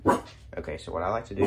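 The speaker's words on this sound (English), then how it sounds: "Sorry for my dog barking." A dog barks in the background behind a person talking, with short yips and barks mixed under the speech, near an archery bow press setup.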